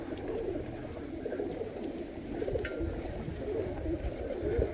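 Pigeons cooing and mumbling inside a loft in Juana Díaz, Ponce, Puerto Rico, a low continuous murmur of overlapping soft coos from several birds nearby, without talk.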